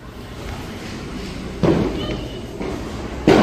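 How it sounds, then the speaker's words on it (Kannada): Diwali firecrackers go off at a house across the street, heard as two distant, muffled bangs spaced well apart over a steady background hiss. "ನಮ್ಮ ಮನೆಯ ಮುಂದುಗಡೆ ಮನೆಯಲ್ಲಿ ಪಟಾಕಿ ಬಿಡ್ತಿದ್ದಾರೆ"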